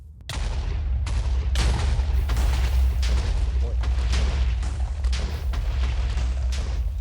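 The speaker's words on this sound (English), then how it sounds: "let's light this and wait for it to explode" Blocks of TNT detonating in a Minecraft-style world, a loud, dense run of booming blasts firing in rapid succession for several seconds, each crack layered over a deep continuous rumble.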